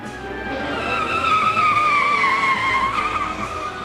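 A car skids with a long, loud tire squeal during a film car chase, the screech wavering in pitch over the roar of the engine and fading slightly at the end.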